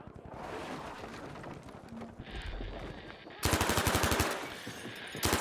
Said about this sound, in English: putting down some rounds there with that ZK383